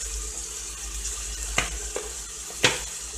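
Garlic and onion fry with chili flakes in a pan, giving a steady close sizzle punctuated by a few sharp clinks of a utensil against the cookware.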